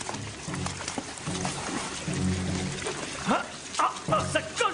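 Water gushes and splashes from a pipe during a cartoon flood, a steady rushing wash with a few louder bursts over a background of music and voice.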